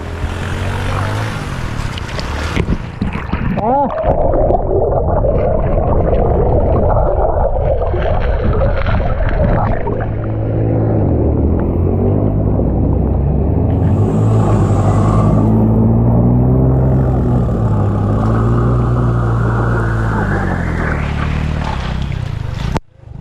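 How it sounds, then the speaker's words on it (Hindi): A motorbike on a tour in Balochistan labours in deep water, its engine a loud, churning rumble over splashing that strains and wavers before cutting out at the end, with voices faintly present. "गाड़ी फंस गई, आखिरकार बंद हो गई बहुत गहरे पानी में।"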